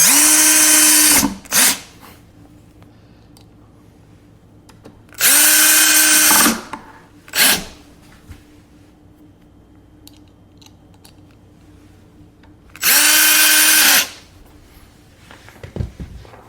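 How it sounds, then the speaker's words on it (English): Cordless power drill on its lowest setting driving screws into an Electro-Voice ETX-15SP subwoofer cabinet during a DVX3159 driver install, three separate whirring bursts of about a second each, with a short ratcheting blip after the first two, close and loud against a quiet room. "Now I have my drill on the lowest setting, just in case I don't want to strip anything out."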